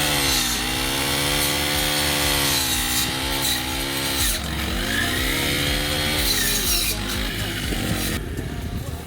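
A GRAND BG 5700 4T four-stroke petrol brush cutter fitted with a grass disc strains as it cuts into an old wild pear tree, the engine roaring steadily and close with its pitch sagging and recovering under load.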